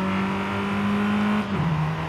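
A 2021 MG6 XPower with a 1.5-litre turbocharged engine in Forza Horizon 5, pulling hard in third gear with a steady droning engine note that drops in pitch near the end as the car shifts up, heard alone.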